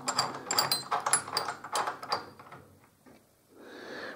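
Tension screws on a bass drum being turned with a drum key, giving a close run of quick ratcheting clicks and scrapes that stops, then a soft shuffling rustle.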